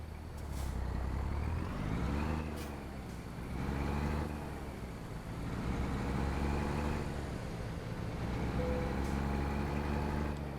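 A truck in American Truck Simulator drives smoothly. The engine hums at a low, steady level and swells and eases in slow waves as it shifts through the gears, with a few faint clicks.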